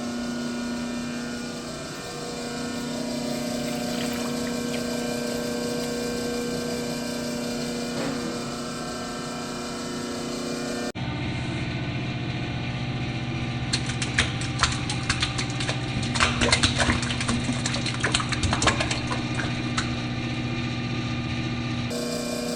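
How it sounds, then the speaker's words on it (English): A stand mixer churning cookie dough gives a steady motor whir that shifts to a different, busier pitch halfway through as it goes into gear, with light rattling and clicks over the drone. No speech. "Slowly putting it into gear so that it doesn't splash everywhere."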